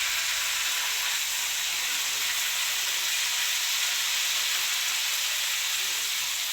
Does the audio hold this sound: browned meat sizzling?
yes